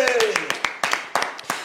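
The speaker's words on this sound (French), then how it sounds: "Merci beaucoup Charmingo, on va l'ovationner très très fort, on va l'applaudir" A studio audience on a television show claps in sparse, uneven bursts, a handful of distinct sharp hand claps rather than a full ovation, moderately close, with a voice briefly at the start.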